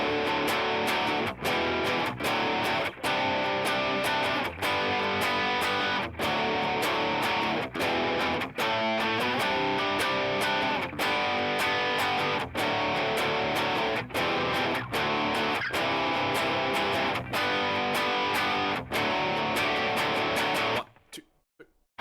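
Distorted electric guitar plays a chorus leading into a post-chorus, loud and steady for about twenty seconds with rhythmic strums, then stops abruptly. No one speaks.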